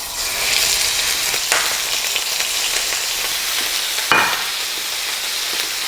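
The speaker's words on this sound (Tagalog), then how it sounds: "Ipiprito lang natin siya for 3 minutes on each side" Marinated pork fries in hot oil in a pan for a bistek dish, giving a loud, continuous close-up sizzle with a couple of brief crackling bursts and no talk.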